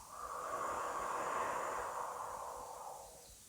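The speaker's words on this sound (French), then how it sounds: "J'inspire sur 3, j'expire sur 6." A single long, slow exhale hisses softly through the mouth during a relaxation breathing exercise, close but quiet, swelling and then fading over a few seconds with no talking.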